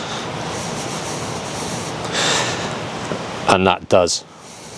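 A plush microfiber cloth wipes Dodo Juice Supernatural Deus wax residue off a car panel, making a soft, steady rubbing hiss with a brief louder swipe midway, then someone talks over the end.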